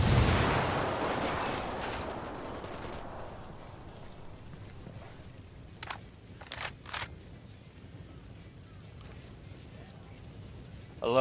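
A frag grenade blast in the Tom Clancy's Ghost Recon video game booms loud and broad at the start, then fades into a long rumbling tail, with a few sharp distant gunshot-like cracks following.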